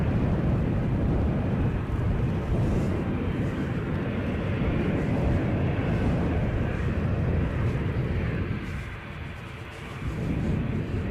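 EasyJet airliner at Edinburgh airport in gusty wind, a sustained rumbling jet roar with wind buffeting, easing briefly near the end before swelling again.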